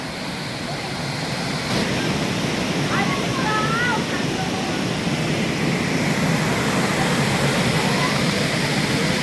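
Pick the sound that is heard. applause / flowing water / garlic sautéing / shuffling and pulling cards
flowing water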